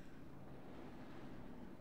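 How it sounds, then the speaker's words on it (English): Faint water noise in the horror game Monstrum, a low, continuous washing rush like wind or surf, steady and distant with nobody speaking. "That's water."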